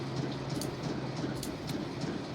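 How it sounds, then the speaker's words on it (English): A train rolls along rails in the Nancy Drew game Last Train to Blue Moon Canyon, giving a steady close rumble with faint rattling and no speech. "Train. Boop boop."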